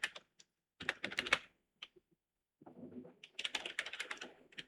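Quick bursts of close computer keyboard typing, rapid clattering keystrokes separated by short silent pauses, with a faint low rustle in between and no talking.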